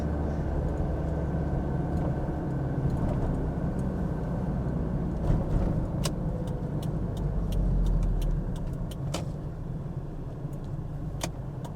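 A 1991 Toyota Hilux LN106 double cab drives along with a steady low engine and road drone inside the cab, a few light rattles and clicks on top, and no one talking.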